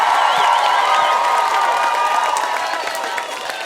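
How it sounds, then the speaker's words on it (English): Audience applause and cheering for competitors at a cosplay championship, a dense, steady crowd roar with a whistle-like tone early on, tapering slightly toward the end. "how about one last round of applause for our competitors?"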